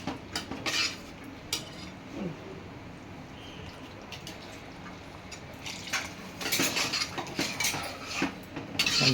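A metal lid is set onto a pot of thick mutton curry: a few close clinks and clatters of pan and lid against quiet background noise, with a final burst of handling near the end.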